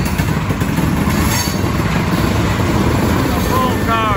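Empty railroad car in a coal train rolling past on the rails, a loud steady rumble close by with brief wheel squeals near the end.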